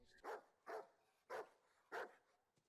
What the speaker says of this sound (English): This dog needs to chill.